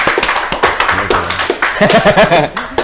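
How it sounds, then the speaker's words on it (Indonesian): A group claps together in applause on an Indonesian comedy talk show, the clapping spread through the clip, with chatter and some laughter mixed in. "tepuk tangan dulu dong teman-teman"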